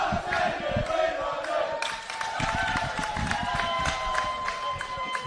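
A loud crowd at a men's Premier League football match between Mindil Aces and University Azzurri, a dense roar of cheering and shouting after a goal, with commentators talking over it.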